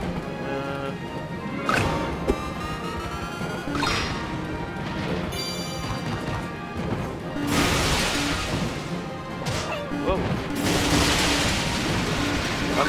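Time bombs go off in the Tembo the Badass Elephant video game, bursts of crashing noise breaking through a busy game soundtrack, with a heavy blast near the middle and louder, longer noisy explosions toward the end.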